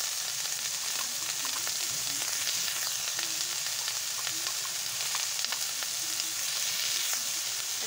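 Pieces of sweet pumpkin fry in hot oil in a pan, giving a constant close sizzle with faint crackles and occasional stirring scrapes.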